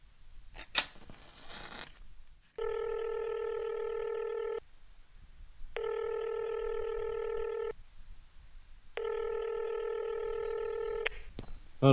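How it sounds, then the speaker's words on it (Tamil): A phone places a call in a short film: after a quick tap and rustle, three long steady ringback tones sound in even succession with silent gaps between them, clear and close. "நான் கால் பண்ண"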